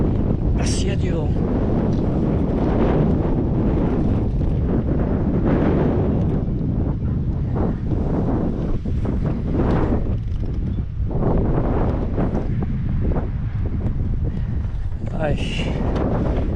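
Strong wind buffets the microphone at the summit of Col de Lindus during a mountain e-bike descent, a loud continuous roar with gusts, and a person talks briefly over it.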